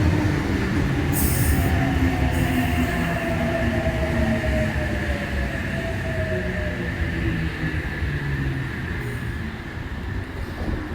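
A passenger train rumbles in close and loud alongside a platform, wheels grinding with a long drawn-out squeal as it slows along the track.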